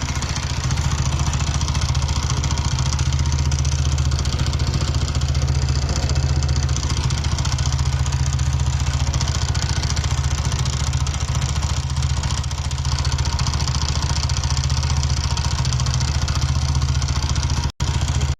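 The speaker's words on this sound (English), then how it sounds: "Khada khada from RH side at all speeds. Observation: noise due to one-way clutch nut loose." A motorcycle runs with a rattling, knocking noise from the rear right side, caused by a loose one-way clutch nut, heard as a steady low engine drone with clatter throughout, close and continuous, ending with one sharp click.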